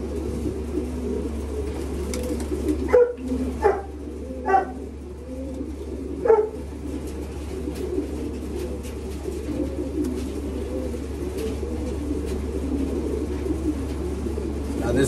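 Racing pigeons in a loft coo in low, murmuring bursts against a steady background hum, with a few sharper knocks or flutters in the first few seconds.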